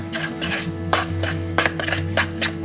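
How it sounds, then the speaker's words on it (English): A fork scrapes and clinks against a bowl while tossing pie crust dough with sprinkled vinegar and milk, as bursts of scraping and taps repeat in an uneven rhythm over a low steady hum. "Just work it with the fork."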